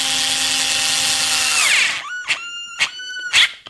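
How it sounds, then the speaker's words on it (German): A power screwdriver firmly tightens a screw on an RC 8x8 model truck, whining steadily for about two seconds before spinning down, then three short close ratcheting bursts follow. "So, schrauben wir das einmal richtig mit Schmackes fest."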